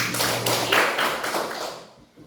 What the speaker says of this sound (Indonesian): kita tepuk tangan dulu untuk Osin.